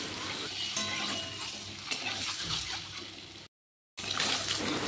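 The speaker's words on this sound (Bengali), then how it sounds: "দেখো, এখন ডিমগুলো ভাজা হয়ে গেছে" Eggs fry with turmeric while being stirred in a pan, making a steady sizzle and watery crackle with scraping movements; the sound cuts out briefly before resuming.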